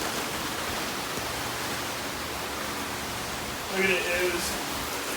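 Steady rain hisses over outdoor repair work on a vehicle's Ford 8.8 rear axle, a dense, even wash of noise throughout, with a voice speaking briefly near the end.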